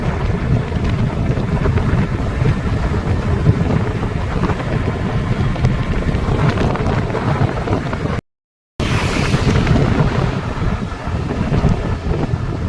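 Strong, roaring wind buffets the microphone during a long-distance Activa scooter ride from Pune to Hyderabad under stormy clouds, a continuous loud rumble broken by one short dropout.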